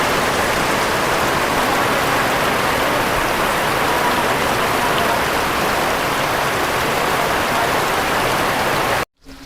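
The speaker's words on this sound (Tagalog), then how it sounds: "ang lakas ng ulan" Heavy rain pours steadily on a mountain slope planted with coconut trees near Santa Elena, a dense unbroken roar of drops that cuts off abruptly at the very end.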